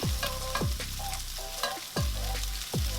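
Sliced corned beef sizzles loudly in a hot pan while a utensil repeatedly scrapes and stirs it, giving regular sharp strokes over a constant frying hiss.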